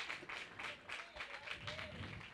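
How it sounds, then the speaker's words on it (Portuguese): A church congregation at a women's worship service applauds, giving steady, even clapping that stays faint and somewhat distant throughout. "Pode aplaudir."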